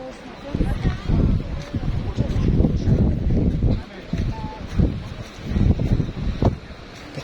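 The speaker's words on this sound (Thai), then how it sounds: "ลมแรงมากนะคะ" Strong wind gusts across Mykonos in September, buffeting the microphone with heavy roaring rumbles that rise and fall in surges, loud and close, with a voice talking faintly in between.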